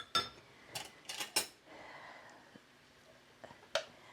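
Metal utensil scraping and clinking against a cooking pot while stirring pork with mango and habanero sauce, a few sharp clanks early then quieter scraping and a final knock, close and fairly soft.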